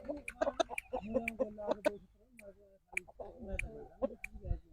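Close, repeated clucking and short squawks from a rooster, irregular and sharp, with some people talking in the background.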